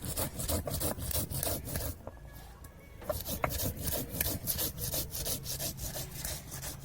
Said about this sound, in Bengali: গরম মশলাটা বেটে নেব।